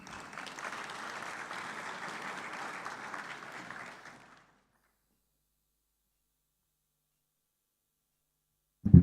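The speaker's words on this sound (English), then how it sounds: "Please, ladies and gentlemen, with a round of applause" A conference audience in the main room of the 3i Africa Summit 2024 claps in a full, even burst for about four seconds, then the room falls silent before a short loud thump at the very end.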